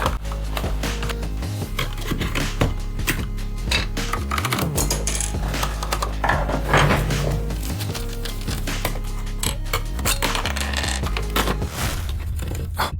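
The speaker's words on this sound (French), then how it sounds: "il faut démonter notre clavier, parce qu'on a besoin d'accéder à l'arrière" Dense plastic clicks, clacks and rattles as parts of a mechanical keyboard are pried and pulled apart, close up and continuous with irregular rhythm.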